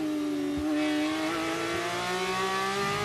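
Porsche Supercup race car at Monza 2017 heard onboard, its engine a loud, steady high-pitched howl held at full throttle with slight pitch shifts, close and continuous throughout.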